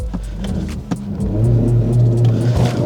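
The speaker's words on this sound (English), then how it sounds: "let me try to launch it" A 2025 Mercedes-AMG CLA45 S accelerates hard from a launch-control start, its engine revving loudly and climbing in a close, continuous roar with no talking.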